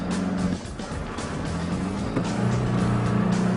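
Isuzu ute driving on sand under heavy throttle, its engine droning loud and steady close by with rising and falling pitch for the whole stretch.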